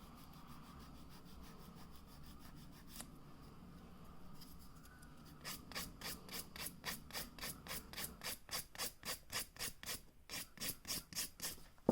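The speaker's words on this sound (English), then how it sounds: "you can continue to file the rest of the nail, the cuticle, the top, everything" An acrylic nail is worked with a nail file: a quiet rubbing at first, then a steady run of rhythmic rasping strokes, close and crisp, speeding up toward the end.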